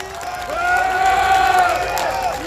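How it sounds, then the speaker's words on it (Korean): A crowd at an outdoor political rally in Dongmyo cheers loudly, voices rising together in long, drawn-out shouts and chant-like calls, with some clapping beneath them. "여러분도 서로에게 감사 박수 보내주시면 고맙겠습니다"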